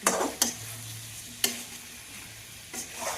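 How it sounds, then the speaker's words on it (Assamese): Food sizzles and fries in a pan while being stirred, with several distinct scraping strokes of the spoon over a steady close sizzle, heard alone without talk. "যিমান বেছি লৰাই থাকে সিমান বেছি খাব টেষ্টি হয়"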